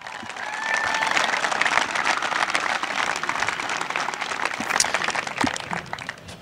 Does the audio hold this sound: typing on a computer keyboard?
no